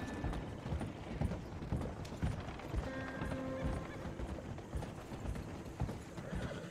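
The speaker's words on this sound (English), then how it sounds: "this is our newest horse, Cream Oreonado, and she's beautiful" Horse hooves clip-clop steadily in Red Dead Redemption II, an even trotting rhythm of close, distinct hoofbeats with a brief whinny midway and faint background game sounds.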